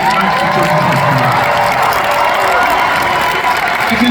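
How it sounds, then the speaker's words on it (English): A big WWE wrestling crowd in Manchester applauds and cheers for the Manchester Children's Hospital, a loud, continuous wash of clapping mixed with shouts and children's voices. "Let's have a round of applause for the Manchester Children's Hospital."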